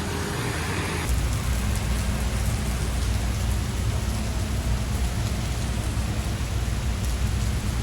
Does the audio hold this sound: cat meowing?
no